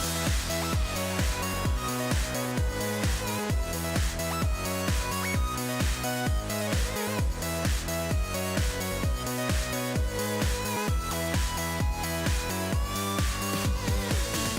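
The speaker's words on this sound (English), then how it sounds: "There's this little techno interlude section later on in the song," A techno interlude from a Sonic Adventure 2 remix plays with a steady, driving electronic beat, punchy kick drums and layered synth tones at an even, continuous loudness, with no voices over it.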